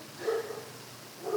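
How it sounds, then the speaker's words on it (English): A dog barks twice in the distance, short muffled woofs separated by a pause, with faint background hum. "should I wait for the dog to finish barking?"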